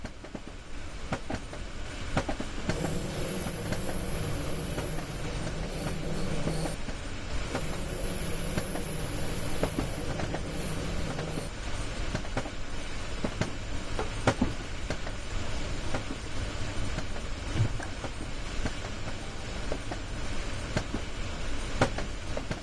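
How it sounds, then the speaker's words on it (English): A BR422 electric multiple unit on an S-Bahn service in the Rhein-Ruhr area of Train Sim World rolls along steadily, with a continuous rail rumble and wheel clatter, a higher whine in the middle stretch and no talking. "You're currently riding a BR422 electric multiple unit."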